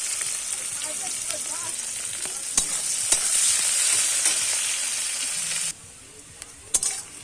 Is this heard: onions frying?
yes